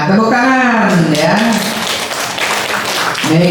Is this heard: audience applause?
yes